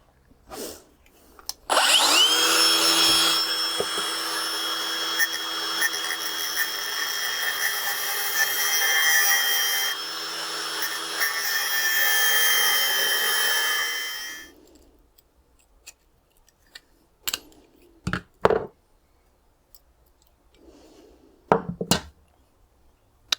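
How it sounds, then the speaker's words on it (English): An angle grinder cuts through a weld on a Kawasaki Z400 motorcycle frame, a loud continuous high-pitched whine lasting about twelve seconds, followed by a few sharp clanks and taps of metal after it stops. "So I'm going to try and just grind off the weld there and at the front and see if I can just take that off."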